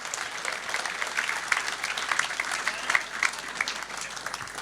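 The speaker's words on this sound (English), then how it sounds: "Can you just put your hands together, if you will?" An audience at a football club's end of season awards evening claps together, a continuous rattle of many hands with some sharper nearby claps standing out, moderately loud and steady throughout.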